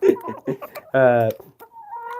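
White Leghorn hens cluck and squawk close by in a short burst of choppy calls, with one longer drawn-out cackle in the middle.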